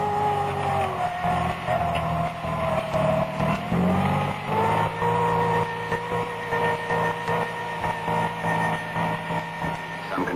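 A Vickers VR180 crawler tractor's engine runs steadily and loudly throughout, a continuous low mechanical drone with shifting tone as it works, no voices over it.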